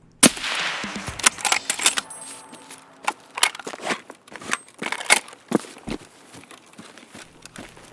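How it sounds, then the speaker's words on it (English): Gunfire in Escape from Tarkov as a standing scav is dropped with a headshot: sharp, loud shots cracking up close, mixed with clattering gear, rustling and metallic clicks as the player moves. "I see a scav standing still, and I realize it's a great opportunity for an easy headshot to finish the quest."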